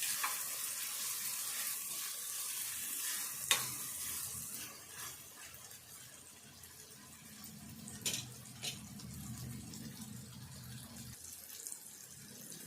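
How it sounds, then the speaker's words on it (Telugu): Masala-coated prawns fry in oil with a faint, steady sizzling hiss, broken by a few brief clicks and stirring sounds. "ఈ రొయ్యలను అయితే ఈ నూనెలో మంచిగా వేపుకోవాలి ఇట్లా"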